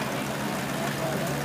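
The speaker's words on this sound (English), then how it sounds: "And really a very stylized tractor, six cylinder, kind of ahead of its time." A 1950 Oliver Model 88 six-cylinder tractor engine runs steadily at a distance, a low continuous rumble with broad background noise at an outdoor classic tractor event.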